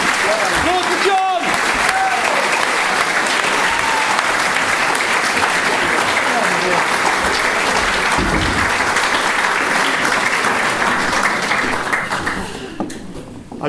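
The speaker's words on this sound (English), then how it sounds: "Applause for John!" A theatre audience gives sustained, loud applause for a performer named John during a live variety show, a dense wash of clapping that holds steady throughout and thins slightly at the very end.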